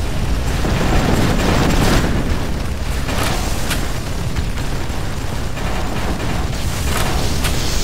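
Repeated booming cannon shots and explosions in the game Ex Machina (Hard Truck) crash over a dense, noisy battle din, with sharp bursts recurring every second or so.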